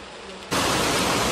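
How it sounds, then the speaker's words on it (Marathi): Heavy rain, a dense broadband hiss that jumps suddenly from moderate to loud and then stays a steady close roar. "काय लय जोरात पाऊस आलाय."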